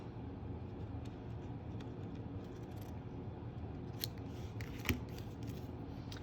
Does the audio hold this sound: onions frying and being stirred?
no